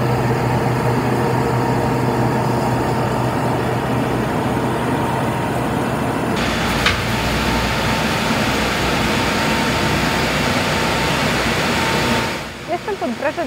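Aupax 4110 and Arbos 4000 series tractors run under load in 4x4, a loud, steady diesel drone with a broadband roar that thins out near the end.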